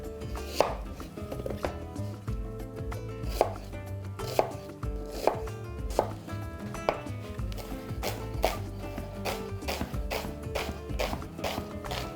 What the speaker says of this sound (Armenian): մանր կտրատում ենք